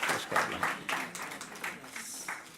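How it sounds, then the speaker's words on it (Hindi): Applause from an audience at a national children's essay competition award ceremony, a moderately loud patter of many hands clapping that rises in bursts and stays steady for a couple of seconds. "इनके लिए भी तालियां और इनके अध्यापिका के लिए भी तालियां।"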